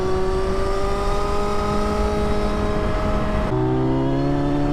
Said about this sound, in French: Alors attends, on va baisser un rapport. Ah bah dis donc, ça accélère hein.